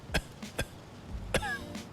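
A game character's cough, voice-acted by a person: a few short, dry, throaty coughs, close and fairly quiet, with a brief rasping pause between the bursts.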